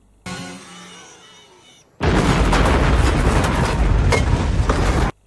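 A big movie explosion from Tremors 2, a sudden loud, sustained roaring blast lasting about three seconds after a quieter lead-in, then cutting off.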